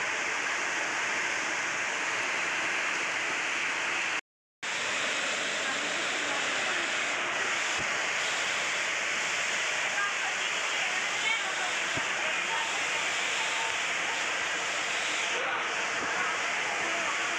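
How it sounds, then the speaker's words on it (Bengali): Heavy rain pours with strong wind during Cyclone Remal at night, a loud, dense, continuous broadband roar that stays steady throughout, broken only by one brief dropout near the start. "বৃষ্টি পড়ছে এখানে খুব জোর, সঙ্গে জোরও প্রচণ্ড জোরে হাওয়া।"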